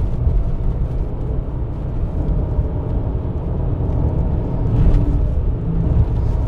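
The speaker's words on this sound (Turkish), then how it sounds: "Çok tatlı kayıyor araba zaten ya" A BMW E60 520d diesel sedan drives and slides, its engine a steady low rumble with broadband road and tyre noise throughout, swelling slightly near the end, with no voices.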